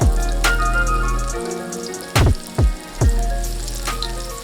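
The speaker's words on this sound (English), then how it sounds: "we're gonna add onions, chopped up onions" Chopped onions hit hot oil, about 250 ml, in a pan for Bangladeshi chicken biryani, giving a loud, steady close-up sizzle with a few sharper spattering bursts and clatters.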